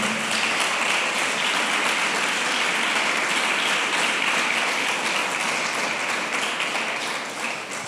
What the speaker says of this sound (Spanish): Dele un aplauso al Señor, hermano, por favor.